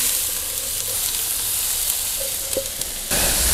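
Steak and vegetables fry on a gas grill with a dense, continuous sizzle and hiss, a couple of faint stirring clicks, and a louder surge of sizzling near the end; no one speaks.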